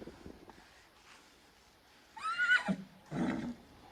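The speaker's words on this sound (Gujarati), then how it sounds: "તમે જોવો ઘોડો અહીં ઊભો છે" A tethered horse standing in place lets out a loud whinny partway through, followed by a second shorter neigh, with quiet background between calls.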